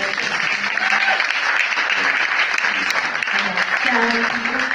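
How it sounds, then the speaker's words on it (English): An audience applauds after thanks to the Goethe Institute at an Artistic Encounters music performance: steady, dense clapping throughout, with a voice speaking over it. "A round of applause for the organization."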